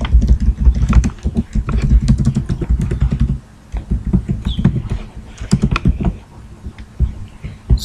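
Rapid typing on a computer keyboard while writing HTML in VSCode, with dense clusters of clicking keystrokes that pause briefly midway and then resume in sparser bursts, close and fairly loud.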